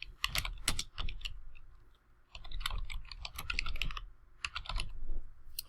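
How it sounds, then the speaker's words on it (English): Fast, irregular clacking of keys on a computer keyboard, close and clear, in bursts with a short pause in the middle, and no talking. "I gotta make it red for you so you know I'm typing it in"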